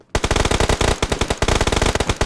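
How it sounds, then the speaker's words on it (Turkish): Rapid automatic gunfire from a video game firefight bursts in suddenly and keeps going as a dense, loud, evenly spaced volley, with no voices over it. "Çatışma seslerinden faydalanarak girdim arkadaşlar"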